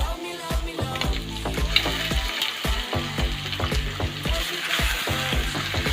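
Chicken pieces for a chicken curry sizzling and frying in a pan, with steady crackling hiss and repeated stirring scrapes and knocks throughout, close and fairly loud, no talking.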